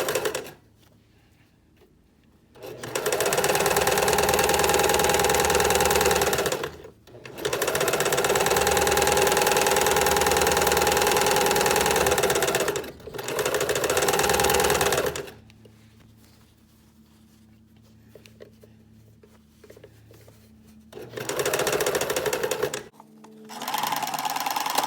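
A sewing machine at stitch length 3 sews the slash edge of pants in several long, loud bursts, about four seconds apiece, with short quiet pauses between runs.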